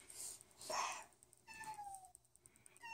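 A cat lets out a single meow, fairly close and clear, in a quiet indoor room at home.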